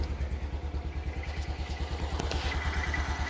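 Isetta microcar engine idling in neutral with the brake on, a steady low rhythmic putter that stays close and even throughout, with no talk over it.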